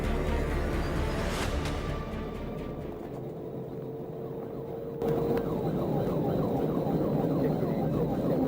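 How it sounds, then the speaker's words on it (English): A police siren wails during a highway pursuit of a Dodge Charger, heard from inside the patrol car under loud road and engine noise, with a sharp shift in sound partway through. "The trooper turned on his emergency lights and siren,"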